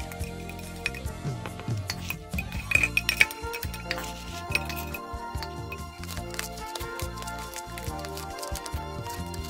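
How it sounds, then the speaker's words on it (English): Broccoli and cauliflower mixture being mixed in a mixing bowl, with close clinks and scrapes of a utensil against the bowl and soft shuffling of vegetables, irregular and fairly quiet. "we're going to add that to the mixture in the mixing bowl and mix it all up"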